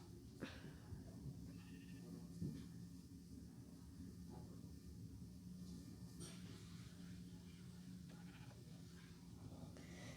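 Sheep bleating in Minecraft, a few short faint bleats over a steady low game hum and background noise, no talk.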